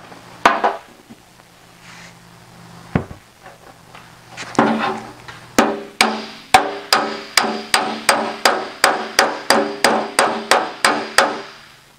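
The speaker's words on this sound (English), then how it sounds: "So let's hammer it a little bit more." Sharp metallic hammer strikes on sheet metal, a few scattered at first, then a steady rapid series of ringing blows, loud and close, with no talking.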